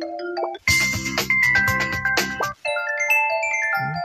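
A phone ringtone plays in a content-creator simulator video game, a bright electronic melody of tonal chimes in short repeated phrases, loud and close, with a brief pause partway through.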